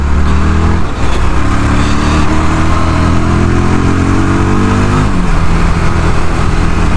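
A 2022 Yezdi Scrambler motorcycle rides along with a loud, steady engine note throughout, its pitch climbing and dropping between gear changes as the bike accelerates, with no talk.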